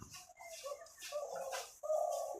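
A red Giribaj pigeon coos in low, throaty bursts close by, with a brief pause before a longer, louder coo at the end.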